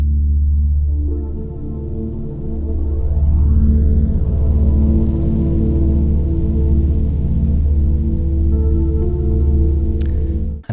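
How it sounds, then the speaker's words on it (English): A slow ambient track made on an Ableton Move plays sustained, deep synth pads layered with a sweeping, rising tone early on. The mix is loud and continuous and ends with a brief click. "next up, we'll be looking at an ambient track, which sounds like this."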